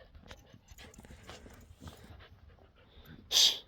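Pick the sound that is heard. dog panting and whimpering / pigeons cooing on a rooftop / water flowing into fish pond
dog panting and whimpering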